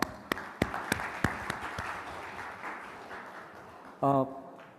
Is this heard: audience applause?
yes